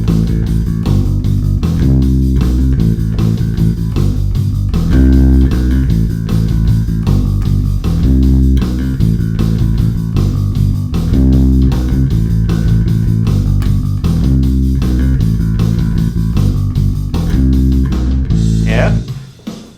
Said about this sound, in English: let's play this bass line at 155 beats per minute